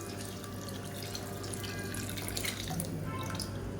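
Water is poured into a pot of manathakkali keerai kulambu, a tamarind curry with black nightshade greens, as a steady, close trickling splash that runs continuously and fairly quietly, with no talk.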